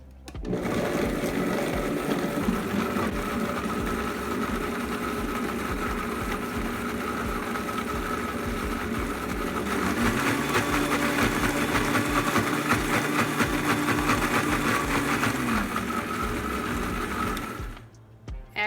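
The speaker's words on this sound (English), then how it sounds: "cut the blender on and let it all blend." A blender blending peppers, apple cider vinegar and chicken broth whirs loudly and steadily, its motor pitch shifting partway through, then cuts off abruptly at the end.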